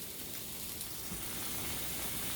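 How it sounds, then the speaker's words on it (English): Vegetables sautéing in a pan, giving a dense, even sizzle with fine crackle that holds steady and close throughout the short stretch. "I'm sauteing the vegetables"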